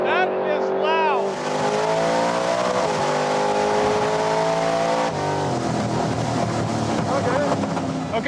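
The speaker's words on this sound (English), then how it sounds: "this thing blower surges a lot." A 1000+ HP Pro Street Nova drag car with a supercharger blower roars loudly and steadily, the engine note rising and falling as the blower surges at full throttle down the strip, with faint talk under it.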